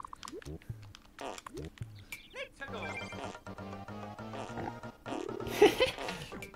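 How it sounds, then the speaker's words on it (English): Cartoonish pig oinks and grunts from the Super Mario Maker 2 video game repeat over bright chiptune-style music and interface blips, several short squealing snorts close and clear. "Definitely gotta put the pig sound effect in everything we can that you can like interact with."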